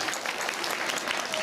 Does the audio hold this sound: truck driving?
no